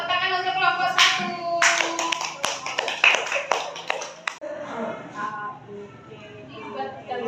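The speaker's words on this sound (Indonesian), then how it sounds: "Tepuk tangan untuk kelompok 1." A group of children in a classroom claps for group 1 in a short burst of rhythmic applause, with a voice and chatter before it and quiet after.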